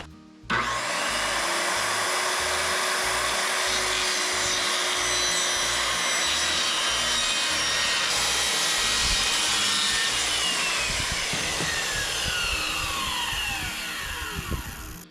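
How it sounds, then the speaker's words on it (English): A Makita power saw cuts freehand through lumber in one long, steady pass lasting about fourteen seconds, loud and close, with a high whine and a gritty rasp as the blade bites the wood. "with my new Makita saw, because I like it so much,"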